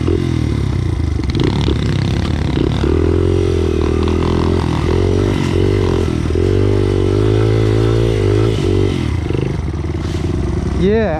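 A pit bike without ice studs revving on ice, the small engine buzzing and whining continuously at close range, its pitch rising and falling as the throttle is worked and the wheel spins, with a voice speaking briefly over it.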